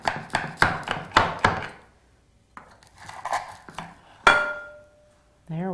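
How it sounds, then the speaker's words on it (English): A knife chops through giant Fruity Pebble marshmallow treats with five quick, sharp strikes close by. Softer scraping follows, then a single clanging hit, and a voice comes in at the end. "We're gonna cut these TikTok viral style."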